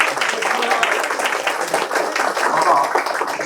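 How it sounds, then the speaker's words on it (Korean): Applause from an audience at a neighborhood residents' assembly, with dense, steady clapping for a few seconds and a voice heard faintly beneath. "다 같이 박수를 한번 정리하게"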